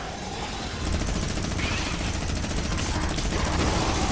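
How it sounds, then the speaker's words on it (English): A minigun in Fortnite Save the World fires a relentless, rapid stream of shots, the loud rattling burst continuing without pause, with a faint voice beneath. "Let's do the minigun."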